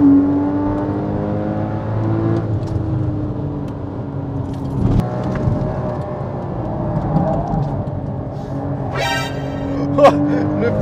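A Porsche Cayman GTS on a race track revs and accelerates through the gears, its engine tone rising and dropping in steady sweeps from inside the cabin while people talk over it.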